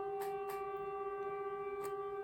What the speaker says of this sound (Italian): Sirena di prova di Strasburgo